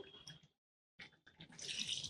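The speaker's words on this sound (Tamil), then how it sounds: "இன்னும் கொஞ்சம் தண்ணி இதில் சேர்த்துக்கலாம்" Water splashes and pours into a cooking pot of Tamil lentil curry, a short burst, a pause, then a steadier gushing pour that grows louder toward the end.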